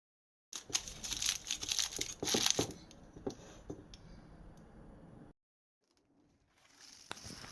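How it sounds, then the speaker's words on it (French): Aluminium foil crinkles and crumples as it is pressed over a leg of lamb for oven roasting, with close rustling for a few seconds that fades to silence and then a faint tap at the end. "Je vais recouvrir le tout et ensuite couvrir avec du papier alu."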